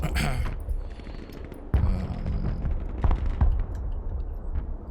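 An A-10 Thunderbolt attack run in the multiplayer game Broken Arrow, with booming impacts and rapid gunfire bursts over a rumbling battle din, and a few sharp blasts standing out.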